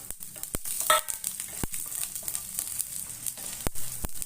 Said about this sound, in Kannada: ಮಸಾಲೆ ಎಲ್ಲ ನೋಡಿ ಇದೊಂದು ಒಂದು ಫ್ರೈ ಮಾಡ್ಕೊಳ್ಳೋಣ